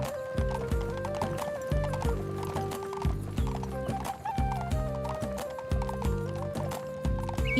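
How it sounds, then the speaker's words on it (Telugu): Hooves clip-clop in a steady trotting rhythm as a bullock cart heads home from a village temple festival, loud and close, layered with whinny-like calls and faint background voices. "ప్రసాదం తీసుకుని మళ్ళీ ఎద్దుల బండిలో ఇంటికి బయలుదేరుతారు."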